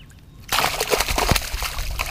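A bass released by hand back into shallow water over its newly hatched fry: an abrupt close splash, then a couple of seconds of steady sloshing and trickling water.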